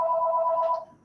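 A single steady electronic telephone ring sounds close by in a quiet radio studio, then cuts off abruptly.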